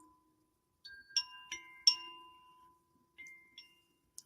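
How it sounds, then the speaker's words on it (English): A hand-shaken bell with small metal prong chimes inside gives several bright, ringing strikes at uneven intervals, each tone lingering and fading in near silence, with a final pair of quick tinkles. "This bell has chimes on the inside. See, little metal prongs. And when I shake it, it sounds like this."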